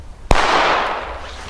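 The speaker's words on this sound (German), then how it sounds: "das Atomic Pack hat wirklich nur gute Böller da drin" A firecracker from a WECO Atomic Pack assortment goes off once with a sharp, loud bang, followed by a broad hissing, crackling rush that slowly fades over a second.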